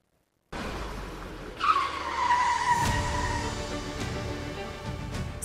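Heavy traffic of cars and motorbikes on a main road in Kinshasa makes a loud, continuous roar of engines, with a sharp tire squeal and passing vehicles rising over the steady rumble.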